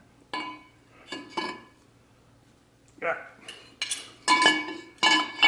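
A metal brake disc rotor for a Jeep rear axle is handled and set onto the axle, making scattered sharp clanks and scraping clinks of metal on metal, near and fairly loud, with short pauses between.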